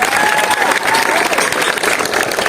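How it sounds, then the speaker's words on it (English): Loud, dense applause from an audience at a Relay for Life charity event for the organising committee, continuous and close with a few cheers mixed in. "give them a big round of applause"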